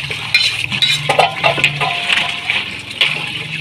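Goat liver is washed by hand in a large metal pot of water, with close sloshing and splashing, clinking against the pot's sides and bursts of swirling water, all without talk.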